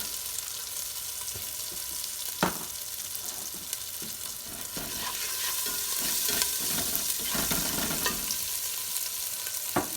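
A spatula scrapes and stirs a frying, spiced lentil mixture with turmeric and salt for vegan patties, keeping up a continuous sizzle broken by irregular knocks and scrapes against the pan, swelling louder in the middle.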